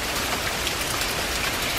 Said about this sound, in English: Listen, it's raining,